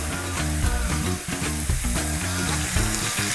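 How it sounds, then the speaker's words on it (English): Steak seared fat side down in a hot pan gives a loud, continuous crackling sizzle, close up with constant spitting fat and no voices over it. "Y'all ready for that sizzle?"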